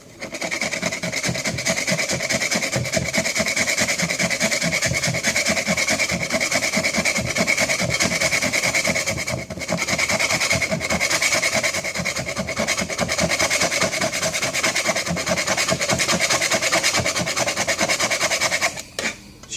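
Scraping a PVC renovation film applied to window joinery, a loud, steady rasping scrape in quick repeated strokes, close by and almost unbroken, with one brief pause midway.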